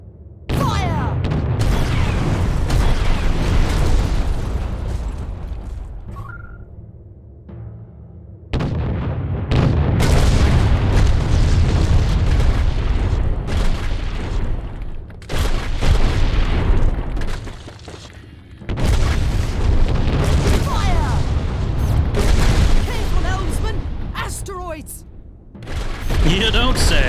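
Ship cannon fire and explosions in the Treasure Planet: Battle at Procyon space-ship battle game, loud booming bursts in long repeated waves with short gaps, heavy low rumble, mixed with speech.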